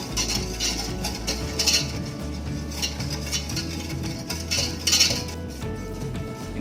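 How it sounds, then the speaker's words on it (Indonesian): A spoon stirs a milk mixture for homemade sweetened condensed milk as it simmers in a pot over a very low flame, giving repeated close metallic clinks and scrapes over a soft steady background. "Ini direbus dengan api yang kecil saja, di atas api lilin, tapi jangan sampai lebih dari itu ya. Ini sambil diaduk-aduk."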